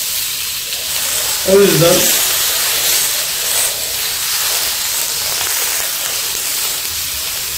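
Marinated beef entrecote sears in a cast iron pan with no added oil, giving a steady broadband sizzle that runs the whole way through, with a brief voice speaking near the start.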